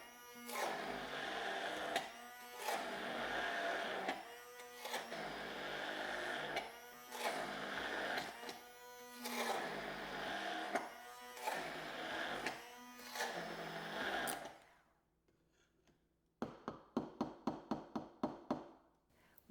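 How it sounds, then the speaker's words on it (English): A loud motorized whirring of a hand blender blending cheese, running in repeated surging bursts, then a pause and a series of short rapid pulses. "I am using an immersion blender"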